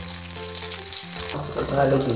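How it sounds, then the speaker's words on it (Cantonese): Turnip cake slices pan-fry in a little hot oil in a flat pan, giving a continuous close sizzle that grows louder and crackling in the final second. "燒熱個平底鑊，放少少油，然之後就將啲蘿蔔糕擺入去煎啦"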